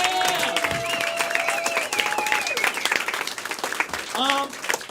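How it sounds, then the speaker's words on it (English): Audience applause for the volunteers at the close of a First Coast Comedy show, a steady wash of clapping through the whole stretch with a few voices and whoops rising over it. "Let's keep an applause going for our volunteers that helped us out tonight."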